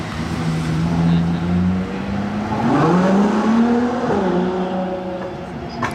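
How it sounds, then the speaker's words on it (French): A Jaguar XJ220 hypercar drives past on a summer street in Monaco, its engine note rising and falling as it approaches and pulls away, fairly loud and steady for several seconds. "Regardez ce qui arrive. La XJ220."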